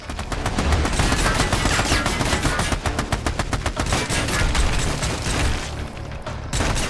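Machine gun turret firing in the video game Army of Two, a loud continuous stream of rapid gunshots with short bursts overlapping, near and dominant for the whole stretch.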